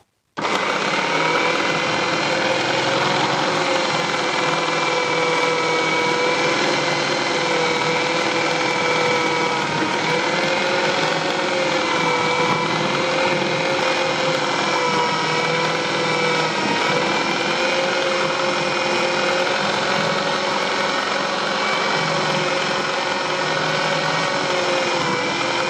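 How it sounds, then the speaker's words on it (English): Food processor with a grating attachment shredding zucchini spears, a loud, steady motor whine that holds without a break. "I'll go ahead and use my food processor. And I have the attachment for grating already set up."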